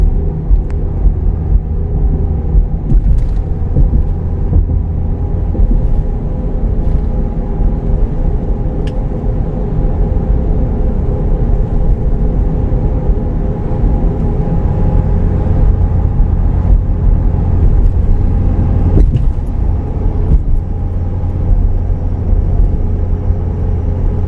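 Inside a Super Duty pickup cruising at 55 mph on all-terrain tires, a loud, steady tire roar and low cabin rumble continue unbroken for the whole stretch, with only faint occasional ticks and no talking.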